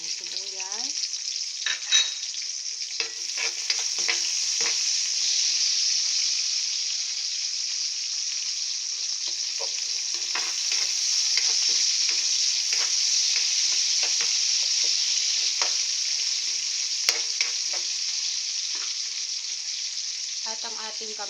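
Onion sautéing in a pan for pinakbet, a steady bright sizzle running throughout with occasional clinks and stirring scrapes, close and continuous, no talking.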